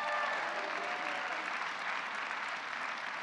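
Audience applause at a speech by President Obama in Colorado, a dense, steady roar of clapping from a large crowd that holds evenly throughout, with no talk over it.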